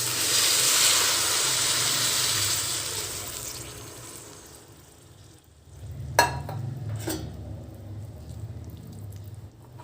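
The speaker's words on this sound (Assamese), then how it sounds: "আলুখিনি দি দিলো আৰু এতিয়া এইখিনি আকৌ 5 মিনিট মান ভাজি লম" Potatoes frying in a pan, a loud hissing sizzle at first that fades down, then a couple of sharp clinks against the pan as frying continues more quietly.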